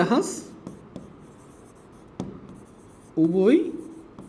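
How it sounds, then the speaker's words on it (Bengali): Pen or marker scratching across a board during a higher-math lesson on particle motion, in brief strokes spread through the clip, with a voice speaking over the writing toward the end. "আসো আমরা লিখি"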